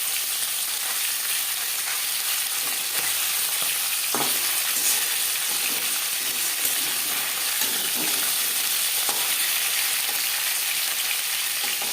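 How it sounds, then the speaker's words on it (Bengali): Live snakehead fish frying in a pan of oil, a continuous dense sizzle and crackle at even loudness, close up and alone, with a few brief pops. "জ্যান্ত মাছ আমি একটু হালকা করে ভেজে নেব।"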